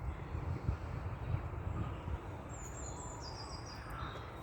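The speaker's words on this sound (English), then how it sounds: "there's definitely quite a few birds around" Crows caw a few times at a distance over a low outdoor rumble, with faint higher bird calls scattered through the quiet.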